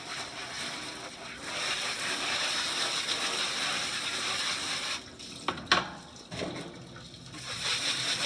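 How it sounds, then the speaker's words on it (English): Water sprays steadily onto the two separated parts of a quail-raising vessel to rinse off particulate, a continuous close hiss with a brief break and a few knocks partway through before the spray resumes. "Now that you have the 2 parts of the vessel taken apart, you're going to spray off all the particulate."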